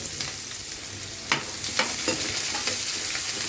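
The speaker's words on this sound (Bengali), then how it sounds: "পেঁয়াজটাকে একটু ভেজে নেব" Chopped onion fries in oil in a pan for a loitta shutki bhuna, with a steady close hiss of sizzling and a few light stirring scrapes on top.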